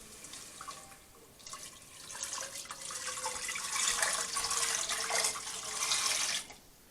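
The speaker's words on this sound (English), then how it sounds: "So I'm going to add in about 4 cups of water here." About four cups of water pour into a cooking pot, a splashing, hollow stream that swells louder midway and cuts off abruptly near the end, with no talking over it.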